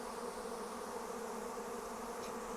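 Large early-season honeybee swarm bearding on the outside of a hive, a dense, steady droning hum of many bees close by, with no voices.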